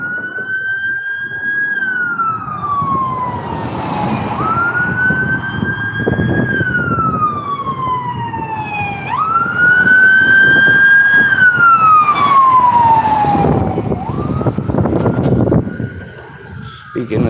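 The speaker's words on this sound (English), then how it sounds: "I think that's ambulance." An ambulance siren wails in repeated rising and falling sweeps, loud and fairly close, with traffic rumble underneath and a voice speaking briefly over it.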